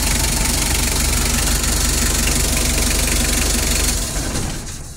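A car engine idles steadily with a rhythmic knocking pulse during an alternator charging check, the running sound loud and close before it fades out near the end.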